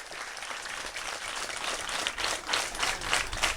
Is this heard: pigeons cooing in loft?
no